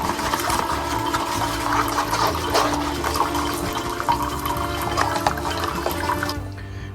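A Keurig machine brewing through a reusable My K-Cup pod gives a steady, close stream of pouring liquid that runs for several seconds, then cuts off near the end.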